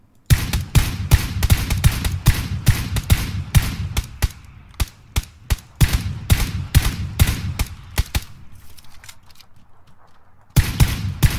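Gunfire in PlayerUnknown's Battlegrounds: rapid, loud bursts of shots and single cracks in a steady rhythm, pausing briefly into a quieter lull before another burst at the end, with no talking over it.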